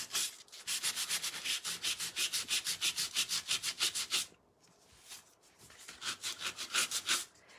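A sanding block rubs over the edges and corners of a painted wooden shelf in rapid back-and-forth strokes, loud and close, with a short pause partway through before the rhythmic scrubbing resumes.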